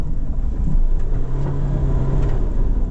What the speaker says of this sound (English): Bit of wheel spin there.